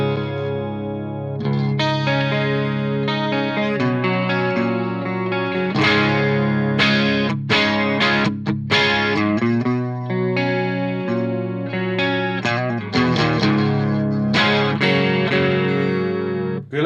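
Distorted electric guitar played through a Marshall JCM900 amp with chorus added, a loud, continuous run of chords and riffs with a shimmering, wide modulation and no talk.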